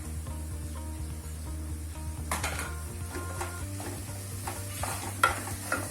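Tomatoes tipped into ginger and garlic already frying in a pan for a prawn curry, then stirred, giving a steady close sizzle with scraping spoon strokes and a few louder clatters.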